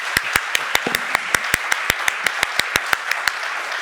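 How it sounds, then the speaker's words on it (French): Sparse applause from a small audience at a literary talk in a hall, individual claps distinct and evenly spaced, fairly close and steady throughout with no voices over it. "je crois qu'on peut vous applaudir pour ces échanges passionnants."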